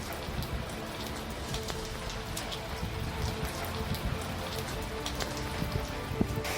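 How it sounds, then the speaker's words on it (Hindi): Heavy rain after a dust storm in Rajasthan pours steadily, a dense continuous hiss of drops drumming on surfaces, with a faint voice buried underneath. "इन तीनों ही इलाकों में जबरदस्त बारिश शुरू हो गई"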